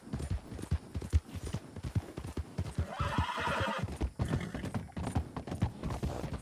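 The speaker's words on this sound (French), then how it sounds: "Allez, cheval, allez." A horse gallops in the video game Red Dead, its rapid hoofbeats clip-clopping steadily and close, with a neigh partway through and a brief gritty whoosh of wind or dust.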